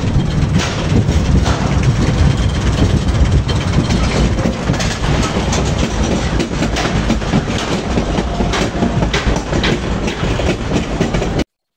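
Roller coaster ride at an amusement park, a loud continuous rumble and rattling of cars on the track with clacking over joints, heard from on board.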